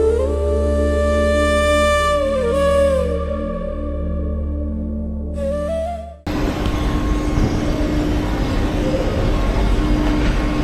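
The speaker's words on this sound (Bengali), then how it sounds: "দেখুন এই হচ্ছে আফ্রিকার বুলেট ট্রেন" Morocco's bullet train, Africa's first high-speed line, heard as a steady loud rumble with rising and falling tonal whine, then a sudden shift to a broad continuous roar as the train rushes close.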